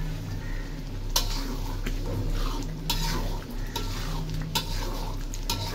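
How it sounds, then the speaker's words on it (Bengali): Fried quail eggs are stirred into curry masala in a pan, with a soft continuous sizzle, scraping of a spoon and occasional sharp clinks of utensil against metal. "এই যে ডিমগুলো দিয়ে দিচ্ছি, ভাজা ডিমগুলো"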